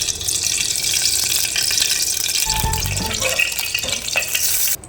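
Oil poured into a hot pan for jeera pulao, a steady loud hiss and sizzle filling the whole stretch, close up, with a brief low thump partway through and no talking.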